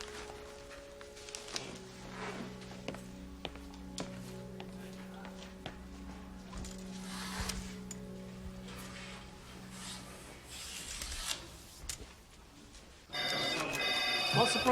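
Office telephones ringing repeatedly at a police station, faint trilling bursts recurring under room ambience and some quiet talk, ending in a louder burst of noise.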